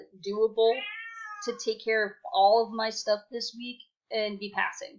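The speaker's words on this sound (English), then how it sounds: "that was my cat" A pet cat meows in brief bursts mixed in among steady close speech from a person talking throughout.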